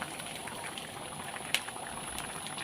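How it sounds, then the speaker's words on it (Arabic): Fried garlic tasha poured sizzling over cooked spinach, a faint, close bubbling crackle and hiss with one brief sharper splash, and no talking. "هنزل بقى ايه بالطشه دي كده على السبانخ. سامعين صوت الطشه؟"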